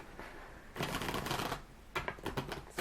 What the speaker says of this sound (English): I'm going to be shuffling on camera today